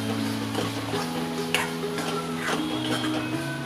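A spoon stirs tomato ketchup into Manchurian gravy in a pan, with soft sizzling under a few sharp clinks and scrapes of utensil on metal, close and alone.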